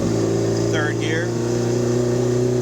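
A track-ready 1976 Alfa Romeo GTAm with carburettors drones steadily in third gear, a loud, close, even engine note that holds constant throughout.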